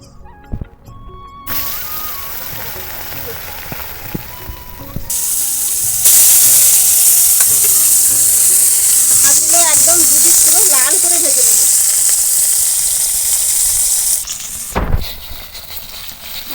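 Katla fish fry in oil in a wok for a Bengali fish curry, a loud, sustained sizzle and crackle that swells as the pieces are turned, with some intermittent background sounds and a sharp thump near the end.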